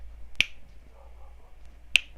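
Two crisp finger-snap samples from an FL Studio song intro, about a second and a half apart, sharp and dry over a faint low hum, with nobody talking.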